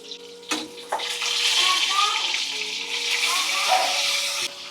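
Pointed gourd pieces frying in oil in a pan make a loud, steady, rushing sizzle close by, starting with a sharp burst as they hit the oil and fading at the end.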